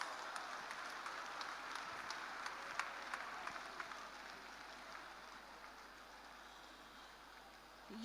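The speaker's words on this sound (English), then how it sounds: "let's raise the roof with a resounding round of applause" An audience at a national women's conference in Lagos gives a round of applause: faint, even, distant clapping from a large hall that holds steady and slowly fades.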